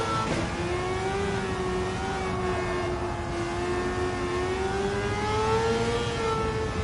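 An engine-swapped Mazda RX-8 in Gran Turismo 7 drones loudly and continuously, its engine note rising and falling gently as the throttle is worked.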